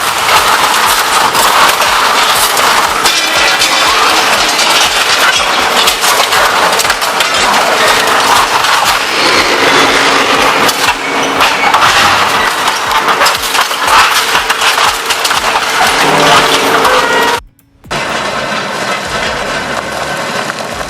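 An industrial shredder crushes scrap metal with a loud, continuous grinding clatter and dense metallic rattling, with a brief cutout near the end before the din resumes.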